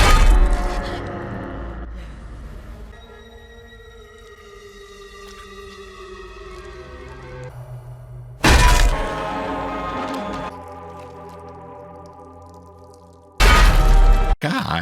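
Loud impact bursts from a horror movie scene as a man's face is smashed in, two heavy crashing hits breaking through a low, droning soundtrack.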